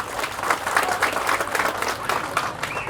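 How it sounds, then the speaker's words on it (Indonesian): A seated crowd at a religious motivational talk claps for the organizing committee, a dense, fairly loud burst of applause that holds steady for nearly three seconds, with no one speaking over it. "Maka tepuk tangan untuk seluruh panitia"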